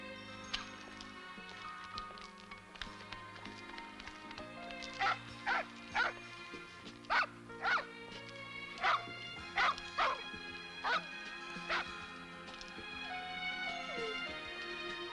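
A dog barks and yips in a series of sharp, evenly spaced bursts in the middle of the clip, heard over a soft orchestral film score, with no talking.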